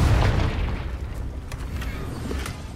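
Confringo spell from Hogwarts Legacy bursting in a deep, booming explosion at the start, its rumble decaying over the next couple of seconds with a few faint crackles.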